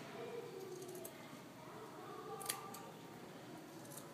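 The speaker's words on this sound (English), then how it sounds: "and you cut your strips" Scissors cut paper strips for Norwegian heart weaving, faint close snips at a few irregular moments over a low steady background hiss.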